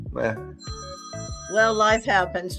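A phone rings in repeated tonal bursts under and between a man's speech, fairly close and clear.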